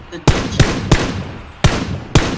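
Gunfire in the video game Battlegrounds: five sharp, loud shots crack out at uneven intervals, each a sudden burst with a short tail, with no talk over them.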